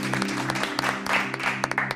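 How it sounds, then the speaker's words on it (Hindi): A film unit crew on set bursts into loud, sustained applause after a take wraps, with sharp individual claps standing out from a continuous dense clatter. "यूनिट के लोग जो रूपवती पर हंस रहे थे वे जोर जोर से ताली बजाने लगे"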